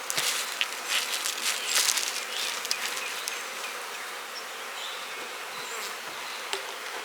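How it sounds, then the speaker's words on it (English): Honey bees swarm around an opened hive box, a dense steady buzz close by with individual bees zipping past, louder in the first few seconds and then settling to a constant hum. "Now see these bees here,"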